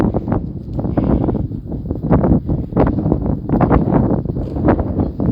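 Steady wind outdoors on a snowy day buffets the microphone with a low, continuous rumble and rustling that rises and falls slightly throughout.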